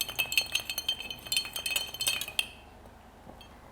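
Ice stirred in a Gin Sul Negroni cocktail glass, a rapid run of bright, close clinks and rattles for a couple of seconds that stops abruptly into quiet.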